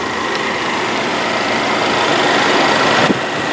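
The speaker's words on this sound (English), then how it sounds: "Now that the hood is popped," A 2018 Buick Regal TourX engine idles with the hood open, a smooth, steady hum and faint whir heard close up and alone, unchanging throughout apart from a brief small knock near the end.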